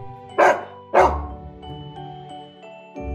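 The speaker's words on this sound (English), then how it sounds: "D is for dog." A dog barks three times, close and loud, with two sharp barks followed by a trailing tone and a third bark at the end; no one talks.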